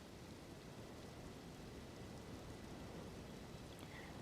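Steady rain falling in the Elden Ring video game, a constant soft hiss of broadband noise that holds evenly throughout with no other distinct sounds.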